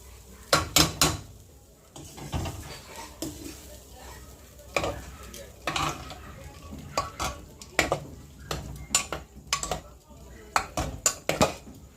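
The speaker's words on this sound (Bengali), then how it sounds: "এরপর এই মশলাটা প্রেশার কুকারে দিয়ে দেব" Spice mix for matar ghugni is tipped into a metal pressure cooker with repeated scraping, clanking spoon strikes and a faint sizzle, spaced out over several seconds.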